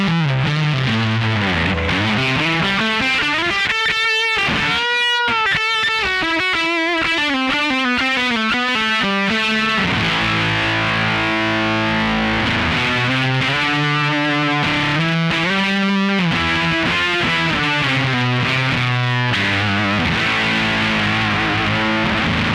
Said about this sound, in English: It's a particularly noisy fuzz pedal.